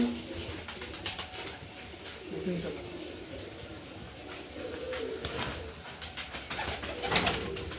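Kalanka pigeons cooing close by in a loft, low soft throaty coos repeating under a steady background with scattered clicks and rustles, a male pressing a female, no clear talk.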